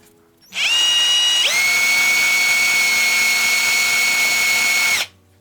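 A Parkside PBZS 5 A1 drill-driven pump runs steadily for about four and a half seconds, a loud continuous whining hum that starts with a short lower burst, then settles into a higher constant tone before cutting off abruptly.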